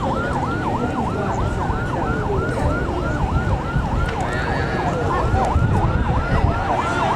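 Two ambulances passing a crowded race start line, their sirens wailing in a fast, continuous up-and-down sweep, loud and close over a noisy crowd and engine rumble.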